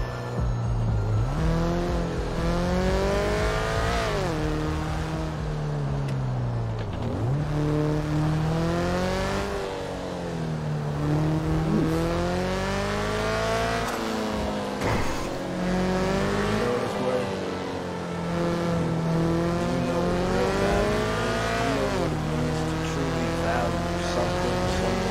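Volkswagen Beetle rat rod with custom turbos revving hard, repeated loud surges of rising engine pitch that fall back between pulls, close and continuous over nearly half a minute.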